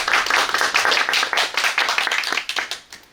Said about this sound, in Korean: 그 박수를 한 번 더 치게 하려고 했는데